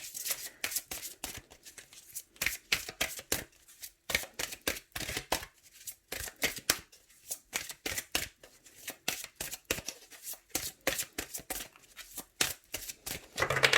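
Oracle cards are shuffled close by in quick repeated riffling bursts with short pauses between them, a crisp papery flutter that keeps going throughout without any talking.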